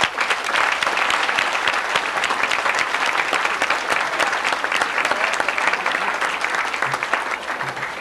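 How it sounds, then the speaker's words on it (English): A stage show audience breaks into loud, continuous applause, dense clapping from many hands sustained evenly from start to finish with no speech over it. "Can we have a round of applause,"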